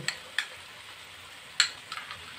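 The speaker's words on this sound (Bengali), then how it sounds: "দিয়ে সমস্ত মশলা আমি ভালো করে নেড়ে নিচ্ছি" A spoon stirs cashew paste and spices into a Bengali brinjal curry (begun bahar) in a pan, making a few faint, scattered clicks and scrapes over a soft, low sizzle.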